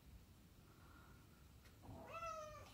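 A pet cat meows close by, a short, bright call rising near the end after a quieter stretch with a faint earlier tone; no speech over it.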